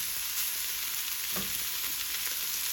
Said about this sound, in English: in order to make crispy skin salmon, what we want to do is initially cook it with the flesh side down